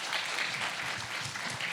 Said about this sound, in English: Can you give our panelists a round of applause?